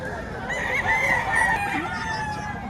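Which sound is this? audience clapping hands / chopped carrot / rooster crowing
rooster crowing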